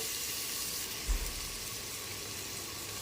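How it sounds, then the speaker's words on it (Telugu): Pumpkin curry with turmeric is stirred in a pan, a steady close sizzle with a brief low scrape of the spoon partway through. "కొంచెం దాంట్లో పసుపు కూడా యాడ్ చేసుకున్నాము ఇప్పుడంతా ఈవెన్గా కలిపేసుకొని"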